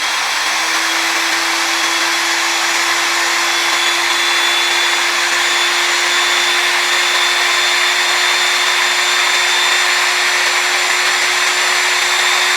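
A Dongcheng DMR8S 8 mm router trimmer running at full speed, a loud, steady high-pitched electric whine with a constant tone, close and uninterrupted, no talking.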